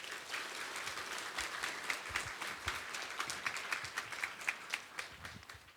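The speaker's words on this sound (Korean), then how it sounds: "하나님을 기대하고 또 목사님을 환영하는 마음으로 큰 박수로 모시도록 하겠습니다" Quiet applause from a church congregation welcoming a pastor to the pulpit, a soft, steady patter of many hands with a few sharper individual claps standing out, lasting several seconds.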